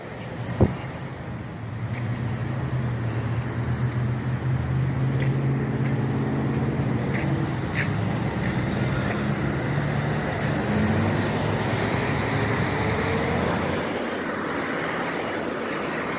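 A car goes by on the road outdoors, a steady broad rumble that swells and holds for most of the stretch before easing off near the end, with no voices.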